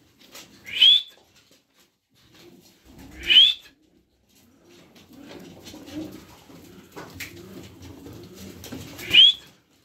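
A bird gives three sharp, clear whistled calls spaced a few seconds apart, each short and close, with faint rustling and low murmuring between them.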